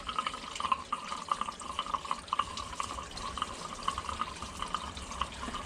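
Engine coolant pours from a bus with a Powerstroke engine into a catch pan, a steady trickling splash with faint drips, fairly close and continuous with no talking.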